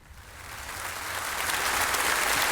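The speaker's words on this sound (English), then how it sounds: "The most reluctant applause." Studio audience on a late-night comedy show applauding into an ad break, starting faint and swelling gradually into a steady, moderate wash of clapping.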